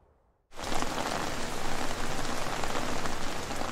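Heavy rain during a storm with gale-force winds, heard as a sudden dense roar of downpour that begins after half a second of near-silence and holds steady and loud.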